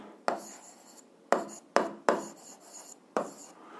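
A pen or pencil scratches out handwriting on paper while an algebra exercise is worked, giving five short sharp strokes at uneven intervals, each fading quickly, close up with no talking.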